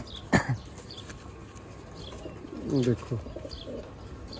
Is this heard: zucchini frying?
no